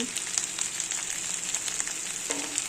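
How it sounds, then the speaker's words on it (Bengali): Tomato pieces and ground spice paste frying in a pan with onion, giving a steady sizzle with light crackles and a brief stirring scrape near the end. "টমেটো কুচি, বাটা মশলা দিয়ে দেবো স্বাদ মতো নুন,"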